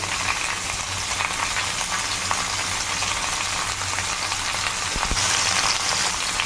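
Mango pieces frying in oil for a sweet mango pickle with salt, turmeric and chili powder, a loud, steady crackling sizzle close by, with a sharp knock of a spoon near the end.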